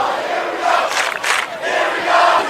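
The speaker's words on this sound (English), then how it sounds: "if you're hearing this loud crowd" A loud crowd cheers at a Northridge high school football game, a broad roar that swells in waves with sharper yells cutting through, sustained throughout and heard alone without talk.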